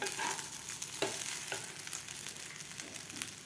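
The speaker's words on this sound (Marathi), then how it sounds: "त्यानंतर यामध्ये घालायचा आपल्याला भिजवून घेतलेला साबुदाणा व्यवस्थित आपल्याला हे मिक्स करायचं आहे" Soaked sabudana is stirred into a hot pan for khichdi, making a soft, close sizzle broken by a few quick scraping strokes of the spoon over a few seconds.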